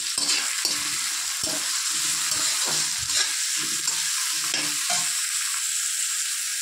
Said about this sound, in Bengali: রসুনটা দিয়ে দিলাম।